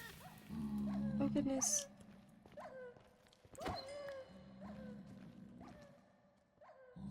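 A pet dog in modded Minecraft whimpers and howls in a few short rising cries, close and fairly loud, alongside a person talking.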